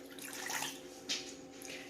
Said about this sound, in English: the smaller pot, I'm going to add my 1/2 cup of water